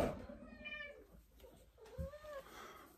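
A house cat meows up close several times, drawn-out rising and falling cries with a whiny quality, in a quiet indoor room with no talking over them.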